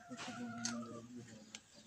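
Chickens in a courtyard yard behind a cage cluck and call in short bursts, a few nearby squawks with a faint rooster-like tone, fairly quiet against low background noise.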